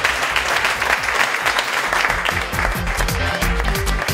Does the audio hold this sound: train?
no